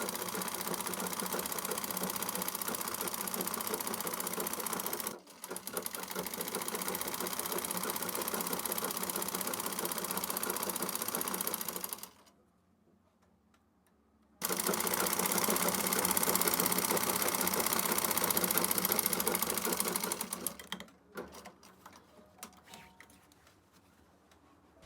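A sewing machine stitches a ruched skirt with a rapid, steady mechanical ticking close up. It runs in long bursts, with a silent gap of a couple of seconds in the middle and a stuttering stop near the end.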